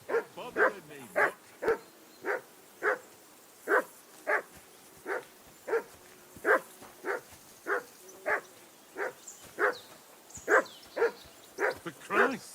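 A dog in Kingdom Come: Deliverance 2 barks in a steady run of about twenty short, evenly spaced woofs, near and loud, with a faint whimper near the start.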